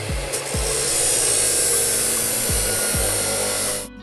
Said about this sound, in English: I cut off the top part to create more room for planting.